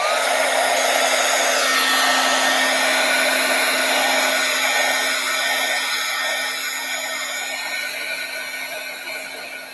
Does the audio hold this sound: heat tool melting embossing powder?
yes